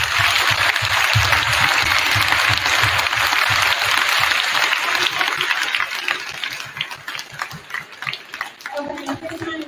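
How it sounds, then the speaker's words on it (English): A school gym audience of students and guests at a middle school Veterans Day assembly claps in a loud, sustained round of applause that thins toward the end, with a voice briefly rising over it. "so one more round of applause, please"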